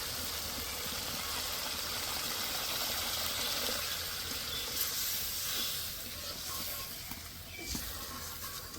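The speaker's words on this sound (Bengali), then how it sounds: "ঠিক এই সময় জল দিয়ে দিতে হবে।" Water poured into fried spice paste in a pan while cooking a fennel-flavoured katla fish curry, giving a steady hissing gush that runs throughout with a few brief louder bursts.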